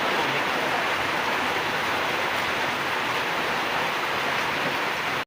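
Steady broadband rush of flowing water just after heavy rain, continuous and fairly loud throughout with no voices.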